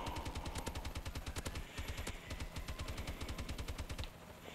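Warbird gunfire in Call of Duty: Advanced Warfare plays as rapid, evenly spaced automatic bursts, sharp and close, firing almost continuously for over four seconds with a brief pause in the middle.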